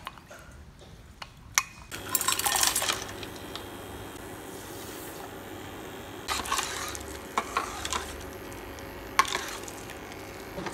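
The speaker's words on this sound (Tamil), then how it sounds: "அகாகர் பவுடரில் இந்த தண்ணியை மிக்ஸ்" Water being stirred into agar-agar powder in a pot for a pandan coconut milk pudding, heard as scraping, swishing stirs and light clinks of a utensil against the pot in bursts, fairly close.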